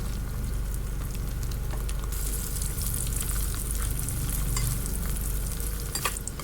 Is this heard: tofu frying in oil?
yes